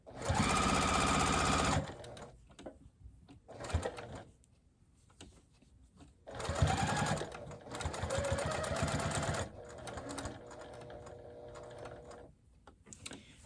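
A sewing machine runs a seam on a microwaveable fabric bowl cozy, with a loud steady whir near the start, then shorter stop-and-start bursts while pivoting and backstitching. Quiet handling gaps fall between the runs.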